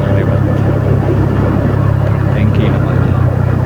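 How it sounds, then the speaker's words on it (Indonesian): A large tanker truck passes on a smooth road in West Java, its deep engine rumble steady and close throughout, with no quiet gaps. "Nah ini ada truk besar juga nih lewat"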